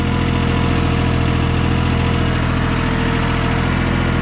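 A Yanmar YM1401D small tractor engine, straining while harrowing, runs loud and close with a steady, labored chugging rhythm and heavy low vibration, no voices.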